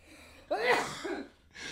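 A single person coughs once, a short sharp burst followed by a smaller second hack, close and fairly quiet against a still background.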